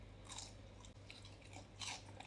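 Crunchy cheese-coated shrimp bitten and chewed close to the mic, with a few crisp crunching bursts over a quiet background.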